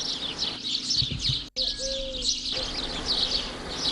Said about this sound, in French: On entend parfaitement le gazouillement des oiseaux.